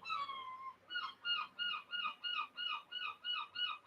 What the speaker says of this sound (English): Bloody seagull.